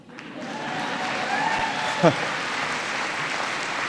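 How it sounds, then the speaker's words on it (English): A crowd applauds steadily during a politician's speech, a broad wash of clapping that holds at an even level, with a few voices mixed in. "that's worth applauding"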